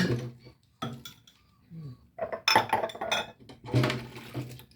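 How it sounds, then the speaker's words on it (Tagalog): Plates, dishes and cutlery clink and clatter during dishwashing at a home sink, with irregular nearby knocks and scrapes mixed with running water. "naghuhugas na lang ako ng plato"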